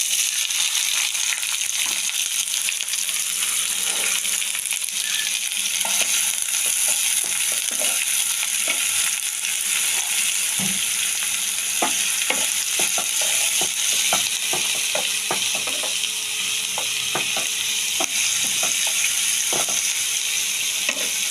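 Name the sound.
onions frying in oil with a little sugar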